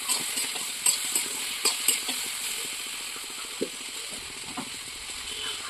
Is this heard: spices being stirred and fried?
yes